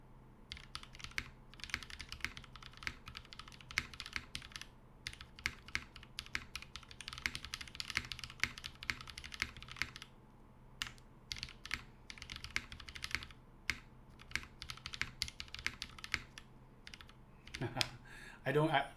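Rapid, close typing on a WKL Sirius mechanical keyboard fitted with YOK Red switches with cream stems, a continuous patter of crisp keystrokes with short pauses, mostly alone with brief speech at the end.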